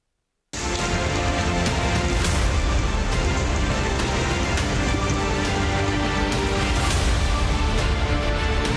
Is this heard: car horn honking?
no